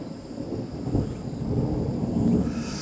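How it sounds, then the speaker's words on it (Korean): Thunder from dry lightning rumbles under a clear sky at a fishing spot, a low, steady roll with no rain, heard alone. "마른 번개가 막 치는데"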